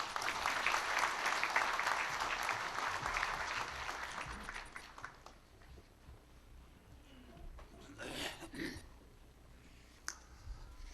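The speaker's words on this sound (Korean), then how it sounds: "힘찬 박수로 모시겠습니다." At a 2013 Korean trade union federation delegates' convention, an audience applauds to welcome a speaker. Dense clapping fills the first five seconds, then thins into scattered claps and room noise, with a few louder bumps later.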